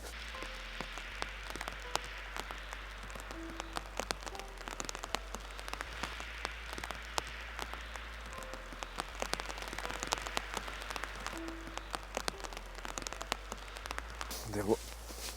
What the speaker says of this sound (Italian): Lo si sente anche dal rumore della pioggia sugli alberi.